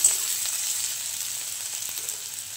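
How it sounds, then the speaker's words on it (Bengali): Onion, garlic, ginger and green chilli sizzle steadily in hot oil in a pan, a continuous close frying hiss with faint stirring clicks and no voices. "এখানে পেঁয়াজ, রসুন, আদা, কাঁচা লঙ্কা ভেজে নিচ্ছি"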